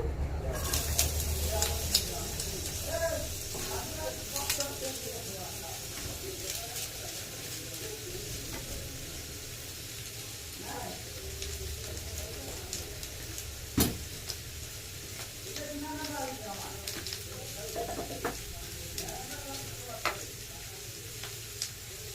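Potatoes fry in a pan in a home kitchen. A soft, continuous sizzle sits low in the mix with occasional stirring clinks, while voices and faint bird coos carry over it.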